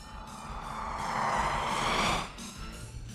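An airplane taking off from an airport near Minneapolis, its engine roar swelling to a loud peak before easing back, steady and fairly close, with no talking.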